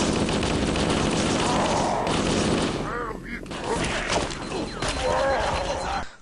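Assault rifle automatic fire in Halo: Combat Evolved, dense rapid bursts of gunfire with impacts and crashes, continuous and loud, with game sounds layered throughout.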